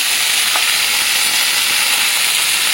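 Shrimp paturi wrapped in leaves fries in mustard oil on a flat tawa, giving a loud steady sizzle and hiss with faint crackles throughout.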